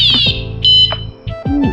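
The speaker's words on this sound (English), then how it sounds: "Oh, alarm. Every bike should have an alarm on it." A Wallke H9 electric bike alarm sounds loud, electronic chirps and warbling beeps in short bursts with sweeping pitch, close and piercing.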